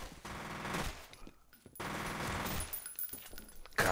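Machine-gun fire in the video game F.E.A.R. comes as rapid bursts in two main volleys with a short lull between them, fairly faint overall.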